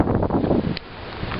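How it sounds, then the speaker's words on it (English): Strong hurricane wind buffets the microphone outdoors in loud, gusty roaring bursts that ease briefly midway, then build again, with rustling in the background. "It's starting to get really windy."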